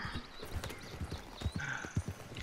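Horse hooves clip-clopping in Red Dead Redemption 2, a steady rhythmic series of close hoofbeats with a brief whinny near the end.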